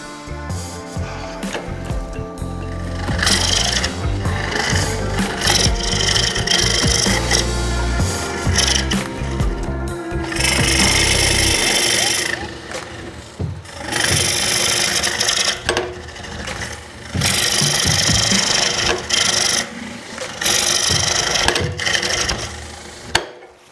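A hollowing tool cuts inside a wooden hollow form on a lathe, giving a continuous scraping and grinding with a rough, fluctuating texture, some passes harsher than others, and short pauses between cuts.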